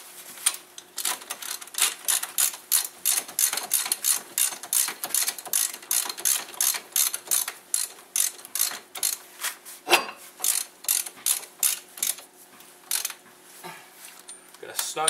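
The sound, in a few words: ratchet with 13/16 socket tightening brake caliper bolts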